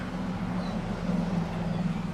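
A 2017 Nissan Altima's 2.5-liter four-cylinder engine idling, a steady low, fairly quiet hum with faint background noise and no speech.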